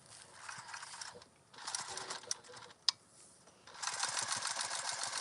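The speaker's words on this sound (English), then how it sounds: "I'm actually going to baste these together now." A sewing machine basting fabric bag panels together, running in short mechanical whirring bursts with a pause and a click, then a steadier longer stitching run at moderate volume.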